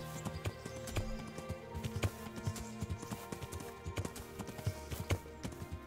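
A horse's hooves clip-clopping steadily while it is ridden in the medieval game Kingdom Come: Deliverance, a brisk rhythmic patter over soft ambient music and background.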